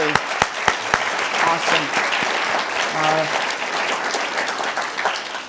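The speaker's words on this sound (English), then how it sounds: "Join me in giving these gentlemen a round of applause." Audience applause ringing out at a live town hall on millennials and the housing market, dense steady clapping sustained throughout with a brief spoken exclamation over it.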